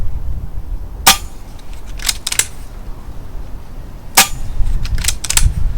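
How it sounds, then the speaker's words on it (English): Biathlon-type side-lever rifle fitted with a moderator, two sharp suppressed shots a few seconds apart, each followed by quick clicking bolt and lever action, close and fairly loud. "It's a biathlon type side lever, light, handy, short, compact, all for around 400 quid. It's a real bargain gun."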